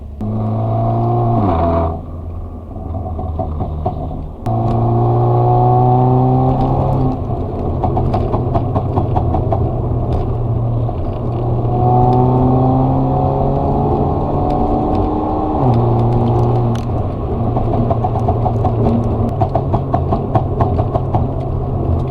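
A Stage 2 tuned Mercedes CLA with a catless, straight-through exhaust and HKS mufflers drones loudly and steadily, its tone rising and falling through gear changes while crackling burbles pop repeatedly on lift-off.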